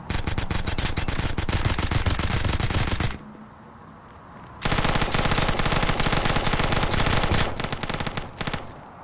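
Automatic gunfire in the Peak.53 shooter game, loud rapid bursts of shots that stop for over a second, then resume in a long sustained burst with a few trailing shots.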